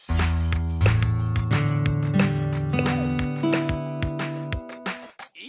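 Plucked guitar-like synth notes from Nintendo Labo Toy-Con Garage sound one after another, building a short six-note melody with layered sustained tones, fairly loud, then fading at the end.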